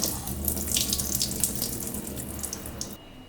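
Tap water runs steadily into a sink while sesame seeds are rinsed and drained, a close, continuous rushing splash that abruptly drops to quiet near the end.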